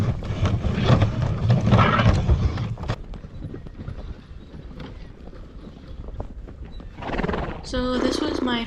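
Draft horses ridden through a snowy forest clip-clop along steadily, and one lets out a loud, close neigh near the end; wind rumbles and a voice is heard at times.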